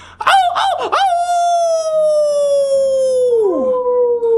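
A person's voice imitates a dog, giving a few short woofs followed by a long, drawn-out howl that slides downward and fades, loud and close with no other talk.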